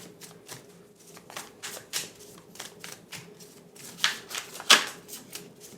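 Tarot cards shuffled by hand in a quiet room, a steady run of soft papery riffles and slaps with a few sharper snaps near the end, close and fairly quiet with no talking.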